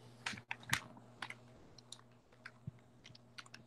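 Quiet, irregular clicks of a computer keyboard being typed on during an online physics class, light keystrokes in short bursts over a faint steady hum, with no one speaking.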